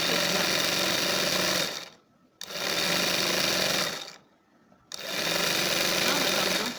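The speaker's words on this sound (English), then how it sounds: "Now that I'm done stitching both sides, I'm going to stitch the sleeves." A sewing machine runs in three loud, steady bursts, stitching the side seams of a kaftan dress, each run stopping briefly before starting again.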